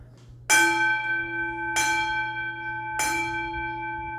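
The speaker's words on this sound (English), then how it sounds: "Doesn't get better than a single bell." A bell is struck three times at even intervals, each clear ringing tone sustaining and slowly fading into the next.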